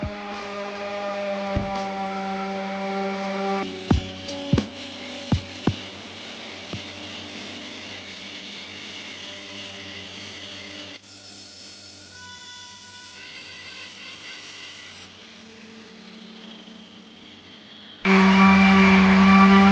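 A $30 Harbor Freight power tool whirs with a steady tonal motor hum during restoration of a Silverstreet Thunderbolt 1003, interrupted by a few sharp clicks, dropping lower midway and then surging louder near the end.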